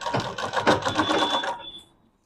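A sewing machine stitches fabric for a medium-sized bag in a close, steady run of rapid rhythmic needle strokes that stops after about a second and a half, leaving a short fading tail.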